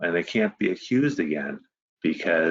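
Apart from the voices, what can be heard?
No everyday noises stand out.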